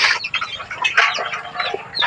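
Backyard rooster and hens cluck and chatter nonstop during feeding, a busy, close mix of short overlapping calls with no talking.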